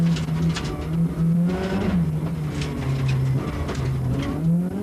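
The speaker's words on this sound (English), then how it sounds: "Now it's down to business in earnest, inside the BMW with Bertie Fisher" A 1991 BMW rally car engine on a tarmac street stage in Ramelton, Donegal, heard from inside the car: a loud, steady engine drone rising and falling with gear changes.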